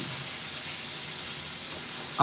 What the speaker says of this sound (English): and now they're frying some fish.